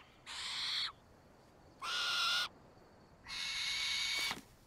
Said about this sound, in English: Let's go find the barn owl.